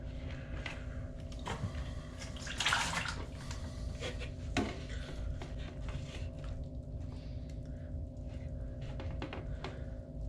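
Dirty, stale water drains from the pump filter of a front-load washer into an overflow pan at floor level, a steady faint trickle with a few soft clatters and a low hum underneath.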